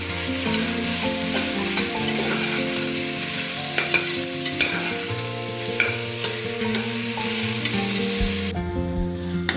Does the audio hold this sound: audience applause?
no